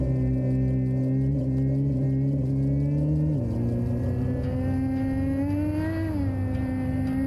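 A car engine in a movie scene hums at a steady idle, then rises in pitch as it revs, a continuous, loud drone that holds throughout with no voices.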